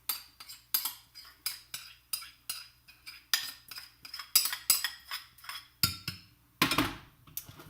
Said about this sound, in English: And then you're just going to mix the two together.